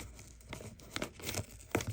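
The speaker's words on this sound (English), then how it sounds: "for more safety, you could just add another piece of tape to that side" Tape being pulled and pressed onto a firework cake fuse, with close crinkling and tearing sounds in a few short bursts.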